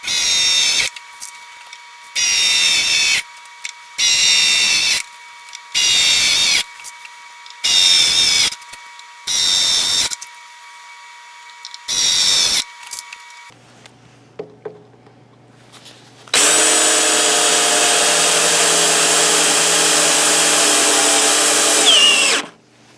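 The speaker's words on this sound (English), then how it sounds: "So I'm going to go ahead and put the Tek screws in first, and then we'll cut it." A power drill drives Tek screws through the metal hoops of a wine barrel, giving about eight short, loud whining bursts with pauses between them. A longer, steady high whir follows near the end.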